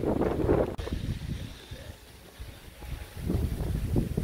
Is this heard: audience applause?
no